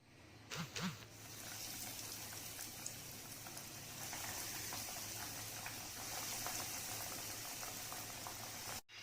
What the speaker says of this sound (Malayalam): ഹൈ ഫ്ലെയിമിൽ ഇട്ട് നമുക്ക് ഇതിനെ ഒരു ഗോൾഡൻ ബ്രൗൺ ആവുന്ന വരെ ഫ്രൈ ചെയ്തെടുക്കാം